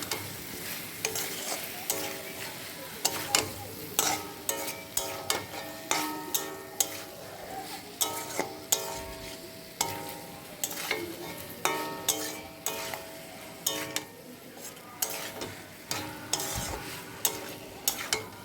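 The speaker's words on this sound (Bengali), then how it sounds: "আলু আর সয়াবিনগুলো দিয়ে ভালোভাবে কষাবো" Potatoes and soybeans are stir-fried in spice paste in a pan, with a sizzle under a steady rhythm of repeated spatula scrapes and knocks, roughly one stroke per second, close and fairly loud.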